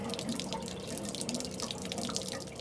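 Water drains steadily from a low-point valve in a camper's plumbing system, a continuous close trickling and splashing flow with faint dripping, no talk over it.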